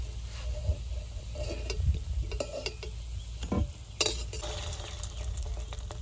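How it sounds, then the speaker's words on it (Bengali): Fish roe fritters frying in a pan of oil give a steady, close sizzle, with occasional light clicks and scrapes from a utensil and no talking. "অনেক ডিমের বড়া ভাজা দেখবে"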